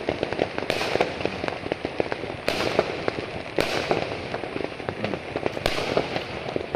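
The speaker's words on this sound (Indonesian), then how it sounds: "petasan mercon iki" Firecrackers explode at midnight during Chinese New Year in a residential neighborhood in Taman Mutiara Rini, Skudai, Johor Bahru, Malaysia, a dense continuous crackle of rapid pops with several louder bangs heard from a distance.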